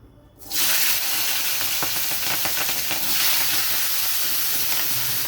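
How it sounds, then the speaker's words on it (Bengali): Thin-sliced potatoes and onion stalks drop into hot oil in a kadai, bursting into a loud, steady sizzle that holds strongly throughout with faint stirring clicks and no voices. "তেলটা গরম হয়ে গেছে দিয়ে দিচ্ছি কেটে রাখা সরু সরু করে আলু আর পেঁয়াজ কলি"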